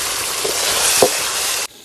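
Chicken masala being stirred and fried in a wok until the oil separates, with a dense, steady sizzle throughout and a scraping stir in the middle. The sound cuts off abruptly near the end.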